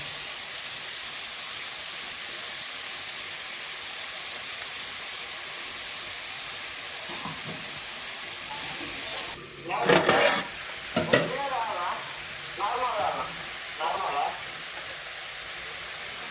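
Ivy gourd in hot oil in a home kitchen gives a steady, even frying hiss, broken midway by a few short bursts of clatter and louder sizzle as the pan is handled.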